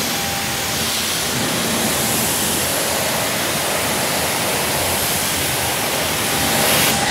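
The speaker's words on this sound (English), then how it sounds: "most of the sound you're hearing is we're moving a lot of water" A Kränzle electric pressure washer sprays water in a steady, dense, loud hiss that runs unbroken through the whole clip, used for car detailing, with no talking.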